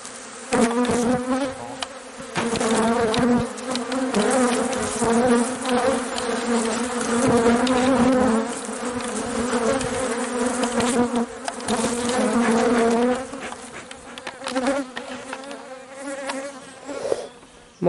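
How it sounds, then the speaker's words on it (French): Honeybees swarm and buzz steadily around an open beehive during a varroa treatment check. The drone is loud and close and continues without a break throughout. "Bon, je remets"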